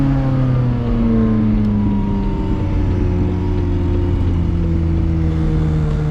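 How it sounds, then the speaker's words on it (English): A McLaren 570S sports car engine revs loudly from close by during a night drive, a steady high-pitched drone with rising and falling harmonics continuing throughout. "Do they want me to rev it?"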